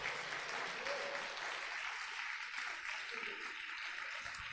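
A church congregation applauding during a sermon, steady, moderately quiet clapping from many hands that carries on evenly for several seconds.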